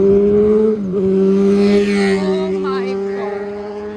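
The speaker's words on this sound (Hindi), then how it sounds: "इतना शोर। ये बाइक्स यहाँ पे सिर्फ सुपर बाइक्स ही चलती हैं।" Loud superbike engines roar steadily up close on a busy street in Europe, with a rising, revving whine near the end.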